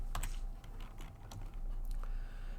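Quick bursts of typing on a computer keyboard, close and fairly loud, with several rapid key clicks and short pauses between strokes, no voices.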